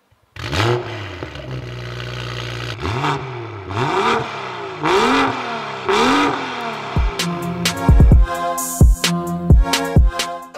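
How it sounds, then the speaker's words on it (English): A BMW M2 revs hard several times through a loud aftermarket Fi exhaust, with sharp blips and crackles between the pulls, close and without talk. "this is the first M2 in the country with an FI exhaust. Let's have a listen to it."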